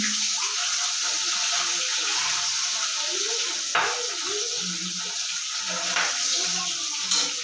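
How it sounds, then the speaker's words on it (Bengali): Tengra fish coated in turmeric and salt frying in hot oil, a steady dense sizzle with crackling spatters throughout and a few sharper pops, close and fairly loud, no talking. "মাছগুলো ছিটে আসছে তেলটা।"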